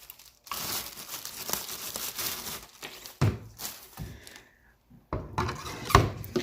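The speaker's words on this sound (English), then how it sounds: "Get this out of the bag here." A wood router is pulled from a plastic bag, making loud crinkling and rustling in several bursts with short pauses and a couple of knocks, close by and without speech.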